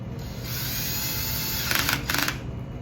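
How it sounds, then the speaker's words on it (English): A small powered driver whines steadily while screws are set into the layers of a profiler velocity cell, close and continuous, with a couple of brief higher-pitched surges near the end and no talk. "for the sake of demonstration purposes, I'm only going to put a few of the screws in"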